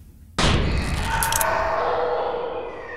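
A cannon in the video game Garten of Banban 2 fires a firecracker with one sudden loud boom that fades into a long rumbling decay, with no talking over it.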